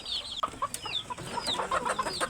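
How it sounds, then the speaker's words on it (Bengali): Several medium-sized chickens cluck and chatter close by inside a cage in a steady, overlapping stream of short calls. "আমি মুরগি পালন করতেছি এর মধ্যে দেখতে পাচ্ছেন খাঁচার ভিতরে বেশ বড় কিছু মাঝারি মুরগি আছে"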